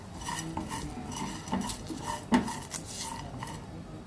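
Whole garam masala spices dry-roasting in a pan, with repeated metallic scraping and clinks of a spoon stirring against the pan, close and fairly loud, one sharper knock midway.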